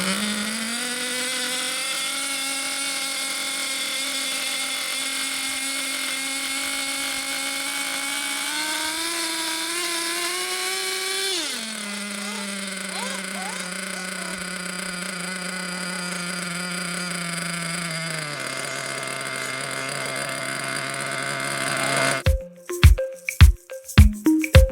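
A JQ Products THERTR model glow engine runs steadily on break-in, a loud high buzzing whine that shifts pitch as the throttle changes, then cuts out near the end with a few sharp clattering knocks.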